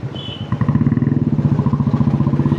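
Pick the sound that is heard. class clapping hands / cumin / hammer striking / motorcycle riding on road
motorcycle riding on road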